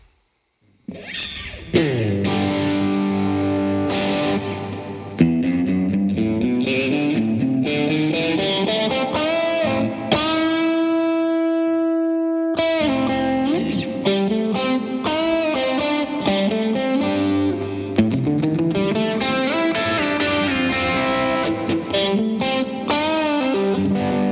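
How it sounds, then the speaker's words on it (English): A distorted electric guitar, recorded direct without an amplifier, plays a lead solo with sustained bends and held notes, washed in reverb, loud and continuous throughout. "let's take a listen to just the solo guitar"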